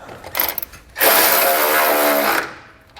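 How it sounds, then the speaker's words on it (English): A 19mm socket tightens bolts while a Blue Ox base plate kit is installed on a 2012 Ram 1500. It gives one loud, steady mechanical burst of about a second and a half, close by, after a few faint clicks. "we can go back and tighten it down using a 19mm socket"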